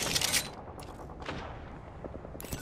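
Gunfire in the Apex Legends video game, aimed at a cargo box: a loud burst of shots at the start, then scattered booms and rattles through the short stretch, with another sharp shot near the end.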